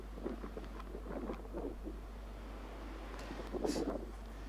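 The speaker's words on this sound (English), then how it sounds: "It's also quite noisy in the strong wind." Strong wind in Force 7 conditions at St Catherine's Oratory buffeting the microphone of a DJI Mini 3 Pro drone, producing low rumbling gusts and bursts of distorted noise, with a steady low hum underneath and no speech.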